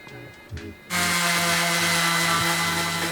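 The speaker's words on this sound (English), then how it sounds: "All right, so my sanding is done" Steady, loud abrasive whirring of a power sander grinding plastic continuously after a brief quiet start with a few small knocks.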